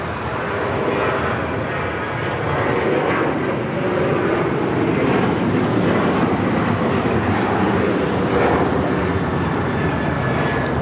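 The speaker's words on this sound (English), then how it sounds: "This is United Airlines 1627 taking off to Houston Intercontinental on the 737-900ER." A United Airlines Boeing 737-900ER takes off at LAX, its jet engines giving a sustained broad roar that swells and holds steady at a moderate distance.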